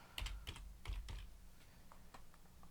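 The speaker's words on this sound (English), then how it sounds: "Let's just type in gradient for now" Typing on a computer keyboard while entering text: a short run of quick, close keystrokes early on, then a few sparser, softer clicks over a low background hum.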